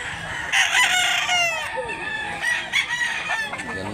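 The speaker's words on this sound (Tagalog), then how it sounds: "Gandang manok." A white rooster in a backyard in Barili, Cebu crows loudly and clearly, then clucks a few times, with a faint voice in the background.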